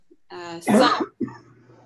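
A single sharp sneeze bursts out after a brief voiced intake, followed by a short murmur.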